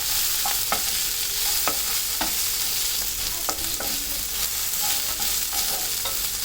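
Onions sizzle and fry in a pan for sambar with green chillies and asafoetida, a steady soft hiss broken by a series of sharp spatula scrapes and stirring taps.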